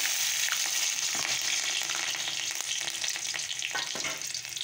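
Salted chopped greens with slit green chilli fry in a pan, giving a steady, dense hiss of sizzling with faint clicks and stirring scrapes throughout and no voices.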